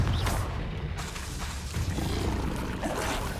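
A Confringo blasting spell goes off in Hogwarts Legacy, a dense, loud burst of crackling, rushing energy with a deep booming low end that churns for a few seconds.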